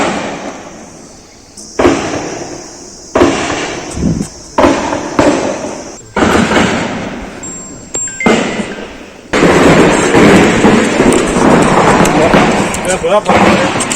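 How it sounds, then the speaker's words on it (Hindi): Gunfire during a security forces encounter with militants in Budgam, Kashmir: repeated loud sharp bursts and cracks, some single and some rapid, over several seconds, echoing in the open, with voices heard faintly in between. "फायरिंग सुन रहे हैं?"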